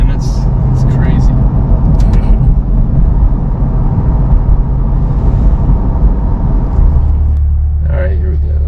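A C8 Corvette Z51 engine roars loudly and up close while accelerating, with a deep continuous rumble that shifts near the end as the car snaps through a gear change.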